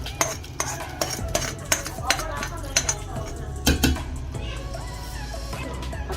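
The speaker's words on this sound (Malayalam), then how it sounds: "അതിലേക്ക് താളിച്ച് തൊഴിക്കാം" Tempering is stirred into beetroot pachadi with a metal spoon, which clinks and scrapes repeatedly against the vessel in a fairly close, busy rhythm before settling into a softer background.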